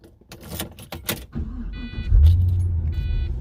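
A 2006 Pontiac GTO with around 400 horsepower: door and key handling noises, a couple of short electric whirs, then the engine starts and settles into a deep, close idle rumble.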